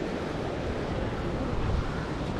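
Ocean surf at the Galle viewpoint in Sri Lanka, near the lighthouse and mosque, rolls as a steady broadband wash mixed with wind buffeting the microphone, loud and continuous with no distinct break.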